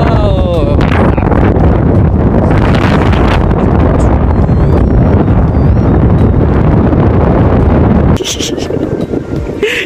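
Strong wind buffets a long suspension footbridge in Syangja, roaring and rumbling loudly into the microphone with gusty surges, while voices are heard faintly beneath, easing slightly near the end.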